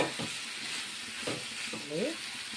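Tomatoes sizzling gently in oil in a pan for tomato bath, a steady soft frying hiss with a few brief scraping stirs, close and fairly quiet, no talking.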